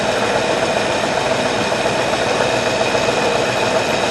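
A car engine idles steadily with a new carburetor fitted and warming up, giving a continuous close mechanical hum with faint knocking and rattling vibration and no speech.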